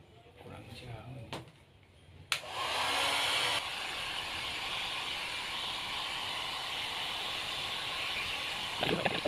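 A hair dryer blows on freshly screen-printed ink from a manual print job, switching on with a click into a loud, steady rushing whir that runs without pause; a few brief knocks come before it starts, with voices talking faintly.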